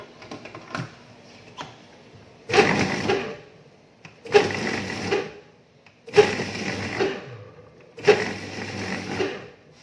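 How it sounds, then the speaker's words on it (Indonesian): An electric blender coarsely chops meat in four loud bursts of a few seconds each, separated by brief quiet pauses and soft handling sounds. "Kemudian saya blender aja dagingnya,"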